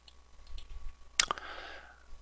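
A single sharp computer mouse click on a run button, heard close and fairly faint against a quiet background.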